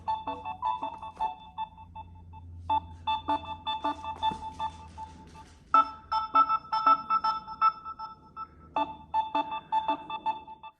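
Repeating electronic alert tones from a phone triggered by an Amazon FiClip 2 budget smartwatch's phone locator, sounding in bursts of bright beeping melodies with short pauses between, fairly close and clear with no talk.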